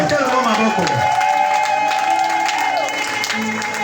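A church congregation at a Sunday service applauds and cheers in acclamation, a steady, dense wash of clapping and voices that fills the room for the whole stretch, with singing-like tones mixed in.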